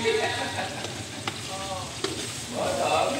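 Garlic and food stirred in a hot frying pan for buttered garlic seafood, a close sizzle broken by scraping strokes and clinks, with brief voices in the background.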